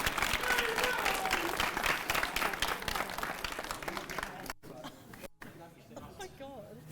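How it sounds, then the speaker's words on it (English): A crowd at a robot combat finals event applauds coach Evie with dense, loud, sustained clapping and some cheering that fades after about four seconds into scattered claps and voices. "So big round of applause for Evie, please."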